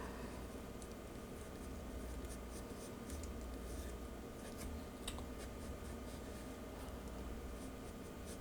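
Pencil sketching on paper, a soft continuous scratchy rasp of strokes close up, faint and steady with a few sharper marks, no talk.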